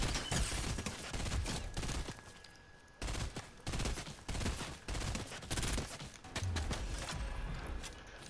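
Gunfire in the Fortnite video game, rapid cracking bursts of shots in quick succession with short breaks, loud and close throughout the clip.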